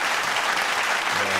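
Brief, steady clapping from a small group, close and continuous.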